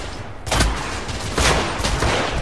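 Gunfire in The Order: 1886 on PS4 comes as two loud, close bursts of shots about a second apart. Each burst booms and rattles, and there is no talking.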